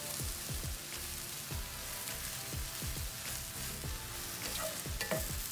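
Food fries in oil in a pan and is stirred with a utensil. A steady sizzle runs throughout, and a rhythmic scraping stir repeats about twice a second, close and fairly quiet.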